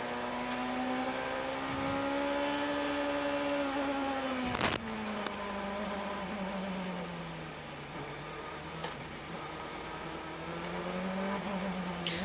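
CART Indy cars at the 1997 Toronto street race tour slowly behind the pace car. A steady, loud engine drone rises and falls gently in pitch throughout, with a few sharp clicks and knocks.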